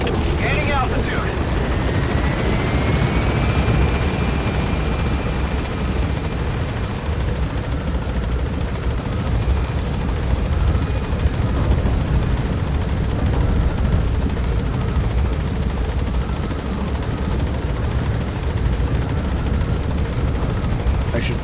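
Helicopter lifting off in the video game Metal Gear Solid V, a steady loud rotor roar filling the whole stretch with a rising whine early on, while a voice speaks over it.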